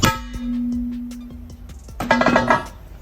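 A replica aftermarket alloy car wheel rim rings out with a loud clang, humming on as it fades, followed by a quick cluster of sharper metallic strikes.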